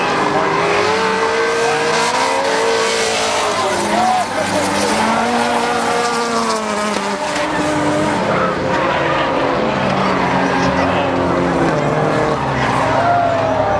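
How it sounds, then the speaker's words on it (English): At a drift event at the Coronado speed festival in San Diego, a drift car spins out, its tyres squealing and skidding amid roaring engines, loud and sustained, with a voice commenting over the noise. "Had a close call, spin out there by Jesse Vargas."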